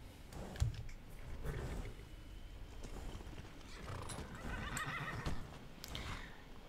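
Skyrim horse whinnying with hooves clopping underneath, a close, moderately loud neigh near the start, then shuffling steps and further snorting over a faint game ambience.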